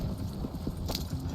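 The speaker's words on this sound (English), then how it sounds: "Horses won't go this fast for long." Horses gallop in Red Dead Redemption 2, a close, steady pounding of hooves in rapid rhythm, heard alone without speech.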